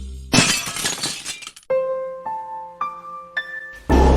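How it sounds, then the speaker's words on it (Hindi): Car window glass shatters in an animated horror film, a loud crash with a spray of breaking shards, followed by ringing tonal clinks and another sharp burst at the end. "जिसकी गाड़ियों के कांच रोज कोई चकनाचूर कर देता।"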